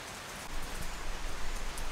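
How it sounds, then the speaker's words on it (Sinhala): Rain falls in Sri Lanka near Kandy during the Perahera season as a soft, steady patter on surfaces. A few slightly louder drips and splashes rise in the second half, with no talking. "මේ වගේ වැස්සක් බලා ගන්න පුළුවන්"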